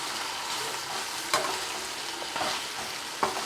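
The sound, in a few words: stirring vegetable biryani ingredients in a frying pan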